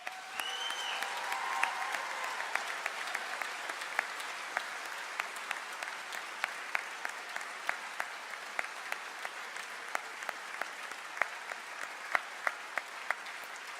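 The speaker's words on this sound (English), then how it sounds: "Please join me in a round of applause for these students." Applause for graduating students at a university convocation, a steady crowd of hands clapping in a large hall, with sharp individual claps standing out over about fourteen seconds.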